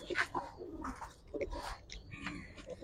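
A pair of military pigeons, a male and a female, coo softly in a bird-keeping setting, with low repeated coos and a few faint chirps of other birds in the background.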